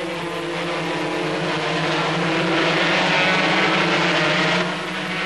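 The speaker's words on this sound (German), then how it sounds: "Auch dieser Start mit laufendem Motor klappte perfekt." 250cc racing motorcycles at Hockenheim in 1987 make a rolling start with engines already running, a dense, loud buzzing drone of many engines that swells slightly before easing off near the end.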